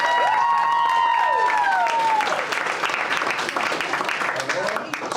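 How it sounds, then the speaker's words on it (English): Wedding guests applauding the couple, a loud burst of clapping with some cheering from the crowd, while voices and a brief melodic whoop ring out over it early on before the clapping tapers. "Big round of applause for that happy couple."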